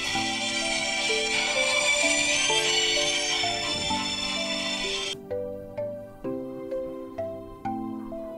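Mobile phone ringtone playing a repeating electronic melody, loud and close, first over a bright noisy bed, then alone with short decaying tones in steady rhythm.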